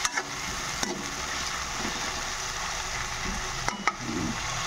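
Spices sizzle and fry in a hot pan for an Assamese-style jackfruit dish, giving a steady close crackle with a few sharp clinks of a stirring utensil.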